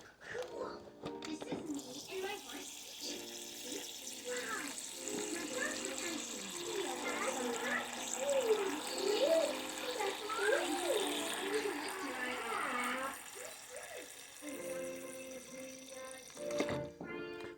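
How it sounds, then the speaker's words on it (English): Tap water runs and pours into a bowl over Buldak instant ramen noodles, a continuous splashing stream lasting many seconds, with voices talking over it throughout. "use some water, just enough to cover the noodles"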